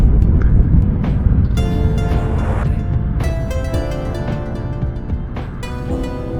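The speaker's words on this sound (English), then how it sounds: "This is a very nice touring engine, and it is not stressed at all." Steady engine drone from a 2022 Honda NT1100 DCT touring motorcycle on the highway, with wind roar and rising, shifting engine tones throughout.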